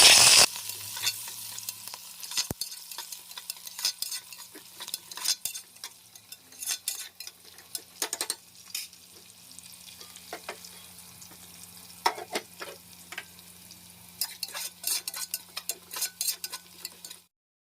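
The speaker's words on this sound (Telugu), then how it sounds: "మసాలాలు కొంచెం ఫ్రై అయిన తర్వాత ఆనియన్స్, పచ్చిమిర్చి కూడా వేసుకొని ఫ్రై చేసుకోవాలి." Onions and green chillies frying with spices in a home kitchen pan, a steady low sizzle with scattered stirring clinks and scrapes throughout, close by and without talk.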